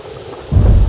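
A sudden loud rumble of thunder bursts in halfway through, deep and heavy over a steady wash of rain.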